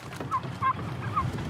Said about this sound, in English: Catching this many birds the week before Thanksgiving takes teamwork and patience.